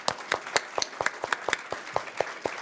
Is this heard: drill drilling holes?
no